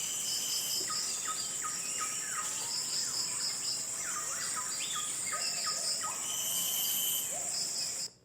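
Dense rainforest soundscape with steady high insect and cricket drones layered under repeated chirping bird calls and other animal voices, all continuous and moderately loud throughout.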